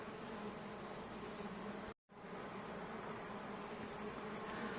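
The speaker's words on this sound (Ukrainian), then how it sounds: "бачимо, бджілки працюють, активно несуть пилок" Many honeybees hum in a dense, continuous drone close by at the hive in autumn, carrying pollen, with a brief cut to silence midway before the buzzing resumes.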